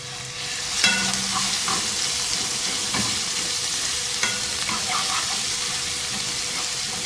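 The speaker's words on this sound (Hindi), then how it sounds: "तेल में फ्राई करेंगे इस लहसुन अदरक को" Garlic and ginger sizzle steadily in hot oil in a pan, a continuous frying crackle with occasional louder stirring clinks and scrapes, close and fairly even throughout.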